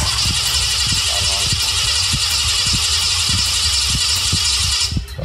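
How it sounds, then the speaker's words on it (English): A restored old engine cranked to start: a steady rhythmic chugging turnover with regular thumps about twice a second, loud and close over a hissing wash, faltering near the end. "let's get the engine going"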